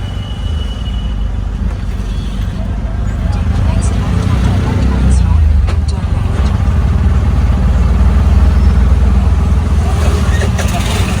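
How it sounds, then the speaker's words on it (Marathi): Busy vehicle traffic crowds the streets of Sawantwadi, a dense, loud rumble of engines from close by, with a few faint clicks and brief sharper sounds over the steady din. "पोहोचलो मंडळी सावंतवाडीमध्ये आणि गर्दी बघा गाड्यांची"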